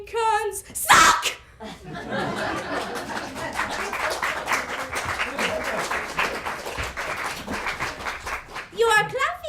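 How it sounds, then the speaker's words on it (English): An audience claps for a student performer at a playwriting showcase after an anti-American song, with mixed clapping and some laughter between bursts of voice at the start and end. "You are clapping."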